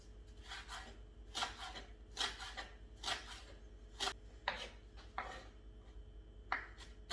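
A knife drawn through fish being prepared for baking, heard as a run of short, close rasping strokes in an irregular rhythm over faint background hum.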